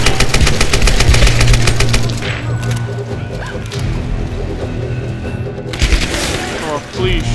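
Rapid AK rifle fire in a Tomb Raider game, dense bursts of loud gunshots crackling over game music and ambience, thinning out midway before another sharp volley near the end.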